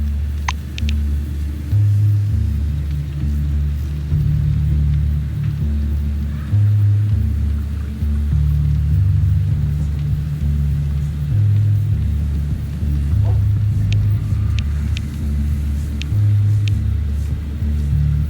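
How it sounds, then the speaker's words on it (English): A storm in the post-apocalyptic sci-fi game Encased rumbles as a deep, steady low roar, loud and continuous throughout, with slow swells and faint crackles above it and no talk. "The Blue looks at the storm once more."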